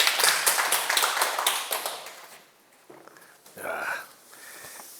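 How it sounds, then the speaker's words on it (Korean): A lecture-hall audience at a Sunday talk on meditation gives a burst of applause, many hands clapping loudly and densely at first. It thins out and fades after about two seconds, followed by a brief murmur and a short noise. "큰 박수 한번 부탁드립니다."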